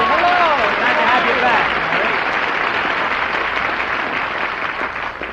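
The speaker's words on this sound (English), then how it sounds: "you hear that applause, Mary?" A studio audience at a radio comedy show bursts into loud, sustained applause that begins at full strength and slowly tapers off over several seconds.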